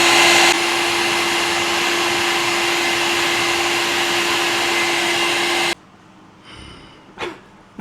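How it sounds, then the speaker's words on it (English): A wife's blow dryer runs loud and steady with a constant hum while heating a fogged camera lens, then cuts off abruptly, leaving a quiet room with a brief faint rustle. "I'm having to put heat on it with my wife's blow dryer"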